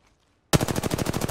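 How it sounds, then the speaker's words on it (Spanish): Rapid automatic gunfire from a weapon in Apex Legends bursts in loudly after a moment of silence, a fast steady stream of shots continuing to the end. "¡Disparando a unos idiotas!"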